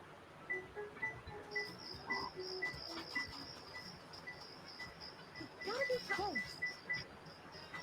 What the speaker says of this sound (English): the like atmospheric like crickets that I can hear chirping in the background